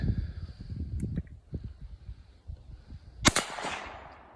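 A single gunshot is test-fired at body armor, a sharp crack that rings out about three quarters of the way through after quiet shuffling and handling noises.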